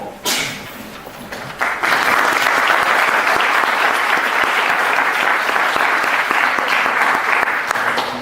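An audience at a lecture on the neural processing of musical emotion breaks into loud, sustained applause that swells after a brief start and holds steady, dense and close.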